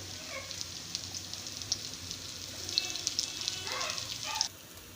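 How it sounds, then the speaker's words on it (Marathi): Chopped onion browning in a little oil in a kadhai, giving a soft, crackly sizzle with scattered pops and faint clinks, fairly quiet and continuous throughout. "या तेलात आता आपण हा कांदा छानपैकी भाजून घेऊ"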